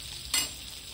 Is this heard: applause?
no